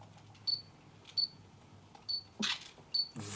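A Panasonic 12-32mm lens autofocuses with a series of brief, quiet electronic chirps and focus clicks, about five in quick succession, close and faint in a quiet room, ending with a soft shutter-like click.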